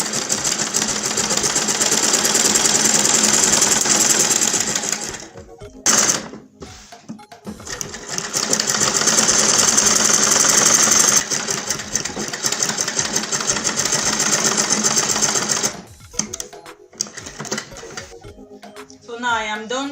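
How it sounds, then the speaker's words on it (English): A sewing machine stitches a reversible satin bonnet in close, rapid runs broken by short pauses and a longer stop near the end, with talking heard alongside. "Now I will go ahead and sew on this line."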